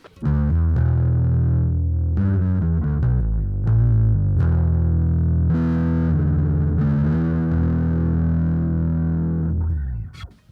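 A distorted bass guitar through an Electro-Harmonix Bass Big Muff Pi fuzz pedal, sustain set low, plays a riff with mild, lighter fuzz, steady and loud, sustained notes ringing throughout with no voices.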